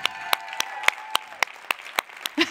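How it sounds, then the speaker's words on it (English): Sparse, sharp hand claps ring out at a steady rhythm as an audience applauds app competition finalists, a few distinct claps over a faint sustained tone, with a brief voice at the end. "One last round of applause for all of our finalists who just nailed it tonight"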